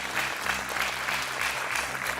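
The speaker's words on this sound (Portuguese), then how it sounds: "Um aplauso para o António, antes de mais." Studio audience on a Portuguese television game show applauding a contestant, a dense, steady roar of clapping from many hands, moderately loud with no voices over it.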